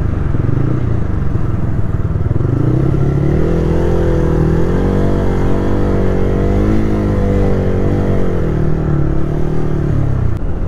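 A Bajaj Freedom 125 CNG motorcycle held at full throttle on a highway, its engine droning loud and steady with a rising and falling pitch, wrapped in constant wind rush and no voices.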